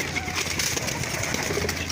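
Turtle doves coo in an aviary, with soft repeated calls close by over a busy background of other birds and rustling.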